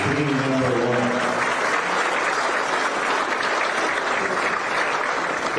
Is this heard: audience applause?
yes